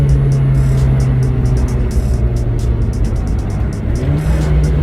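A Volkswagen GTI with a K04 turbo, twin intercooler and lightweight pulley accelerates under boost, its engine a steady, loud mid-pitched drone that holds for several seconds, with a faint ticking pattern riding high above it.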